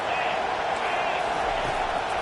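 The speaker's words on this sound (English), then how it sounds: "this crowd is tearing the lid off this place" A home crowd roars throughout at a college football stadium on third down, a dense, steady wall of noise with no breaks.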